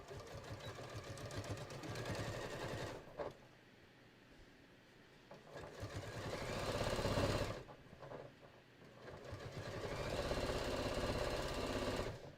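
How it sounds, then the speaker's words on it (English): A sewing machine stitches along the straight edge of a beach tote, a steady fast mechanical whirr that runs in three long bursts with short pauses between, fairly quiet and with no talking. "I'm just going to sew right along that straight edge"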